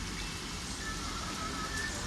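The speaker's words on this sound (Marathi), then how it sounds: "पाऊस पण जोरात आहे" Steady, dense rainfall pours down continuously, a loud even hiss with no breaks.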